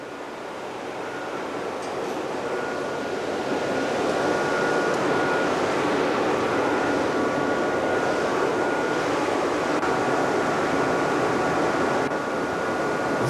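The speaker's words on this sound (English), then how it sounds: "Below me are 4 massive pumps, and that's the noise you can hear." Four massive pumps on a large flow calibration rig roar as a steady, loud broadband drone with a faint tonal hum, swelling slightly after a few seconds and holding constant, no voices.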